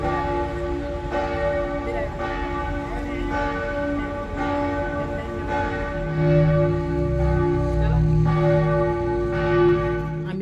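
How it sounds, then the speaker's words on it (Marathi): A church bell tolls repeatedly in slow, even strokes on the hour outside a church in Vaduz, Liechtenstein, each ring humming and lingering into the next, with a deeper bell tone joining partway through. "बाहेर निघालो आणि घंटाचा नाद सुरू झाला आणि हा जो घंटा आहे दर एका तासाने वाजत असतो"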